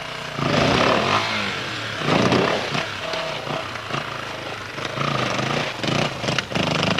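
An enduro motorcycle on a muddy trail at the 1998 Beacons Enduro, revved hard in repeated uneven bursts: a close, loud, buzzing engine that rises and falls as the rider fights for grip, with no talking.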